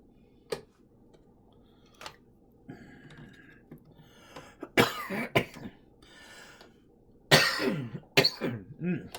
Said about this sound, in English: when I talk a lot, my throat gets dry, and look out, I start coughing